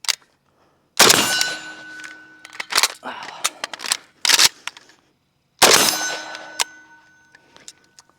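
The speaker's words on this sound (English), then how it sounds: "the mag sweep reload" An AK47 being reloaded with a magazine sweep: sharp metallic clacks and clangs of the magazine knocking out and seating, with a ringing tone, in two bursts separated by scattered smaller clicks.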